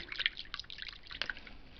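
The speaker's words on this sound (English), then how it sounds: "this is water out of my faucet" Tap water from a kitchen faucet running into a bottle, a soft trickling and dripping stream with light bubbly splashes, steady and close, with no voices.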